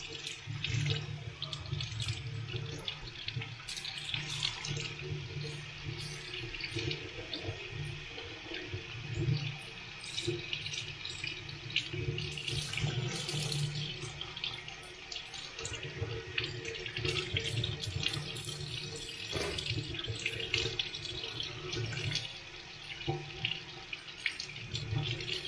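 Cool tap water at low pressure rinsing a DNA air filter from an Interceptor 650 motorcycle, a soft steady splashing and trickling stream that runs continuously and fairly faintly.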